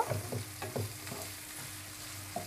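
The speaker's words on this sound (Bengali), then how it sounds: "পেঁয়াজটা হালকা একটু ভেজে নিব।" Oil sizzling and crackling steadily as chopped onions fry for an egg and potato curry, with a few stirring scrapes and clinks of a utensil in the pan, close up.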